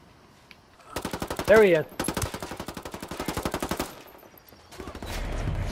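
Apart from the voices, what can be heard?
gunfire in the video game Ghost Recon Wildlands Ghost War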